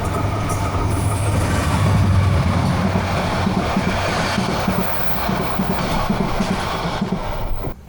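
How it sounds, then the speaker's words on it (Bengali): The Parjatak Express from Dhaka to Cox's Bazar rolls past hilly country with a loud, steady rumble and a rhythmic clatter of wheels on rails, heard up close from on board with no talking. "পাহাড়ি জনপদ পিছনে ফেলে এগিয়ে যাচ্ছে আমাদের ট্রেন"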